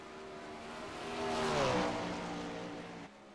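A 410 winged sprint car racing on the dirt track at Volusia, a single engine roar that rises as the car nears, peaks loudly and fades away.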